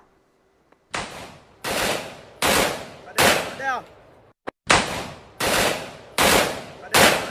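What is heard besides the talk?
M16 rifle gunfire into the sky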